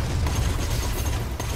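Dense gunfire from the shooter game Borderlands 2 fills a short burst, with loud overlapping shots and booms blending into a near-continuous barrage and no speech.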